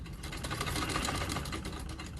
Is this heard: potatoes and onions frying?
no